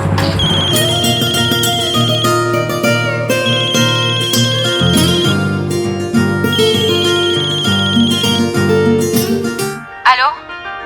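A musical phone ringtone plays loudly and repeatedly for about ten seconds, a melodic electronic tune with a bright, high, sustained tone, ending with a short chirp.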